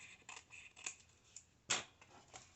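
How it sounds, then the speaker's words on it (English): Scissors trim paper in a quiet room: a series of soft, snipping cuts close by, ending with one sharper, louder snip, with no talking. "it's just as fast and easy to use my scissors to trim it up."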